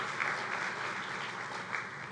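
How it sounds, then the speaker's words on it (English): Steady, dense applause from a conference audience at a closing ceremony fills the whole stretch, even and sustained without rising or falling. "A round of applause for yourselves."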